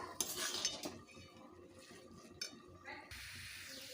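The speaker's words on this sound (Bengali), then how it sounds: "মাছের মাথা খুব ভালোভাবে কষবো একদম লাল লাল করে" Rohu fish head being fried and stirred in a pan with ground cumin and dried chili: a spatula scrapes and clatters against metal over a faint sizzle.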